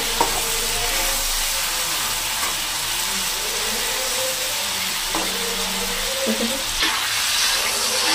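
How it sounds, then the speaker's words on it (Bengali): Prawns frying lightly in a pan, seasoned with salt, give a steady close sizzle and hiss that runs unbroken, with a few faint clinks of stirring and no voices. "চিংড়ি মাছ বেশি ভাজলে শক্ত হয়ে যায়, হালকাই ভাজবো।"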